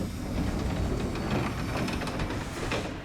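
A Sangi Railway Hokusei Line train on narrow-gauge track runs through trees, S-curves and steep grades toward Ageki terminal station, giving a continuous close rumbling roar with faint clicking from the wheels.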